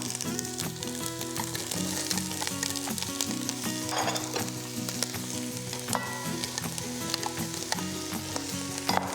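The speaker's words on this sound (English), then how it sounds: "Then I saute these aromatics until they begin to soften." Chopped carrots, celery and onion sauté in olive oil for a minestrone, holding a steady, close crackling sizzle with occasional scraping stirs over a low background hum.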